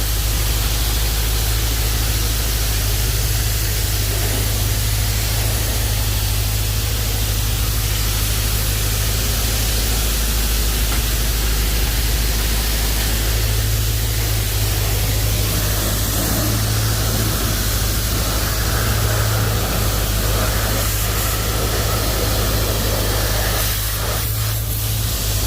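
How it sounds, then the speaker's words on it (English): Steady broadband hiss of a water spray running continuously and close as it rinses down a BMW E92 M3, with a low rumble underneath and no voices. "I'm not washing the car per se, I'm just like spraying it down."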